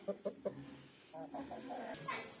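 A few short clucks from chickens up close in a village goat pen, followed by a longer run of soft, rhythmic clucking, fairly quiet.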